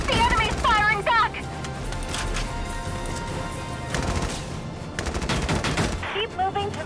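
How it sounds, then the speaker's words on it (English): Enemy gunfire in the video game Valkyria Chronicles 4 crackles as rapid machine-gun bursts and scattered shots over battle ambience, loud and sustained, with a voiced character speaking over it. "The enemy's firing back!"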